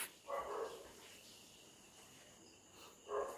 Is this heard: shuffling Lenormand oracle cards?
no